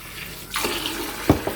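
Water is poured into a glass holding lemon and creatine: a short rush of splashing that starts abruptly and runs steadily, ending with a brief clink near the end.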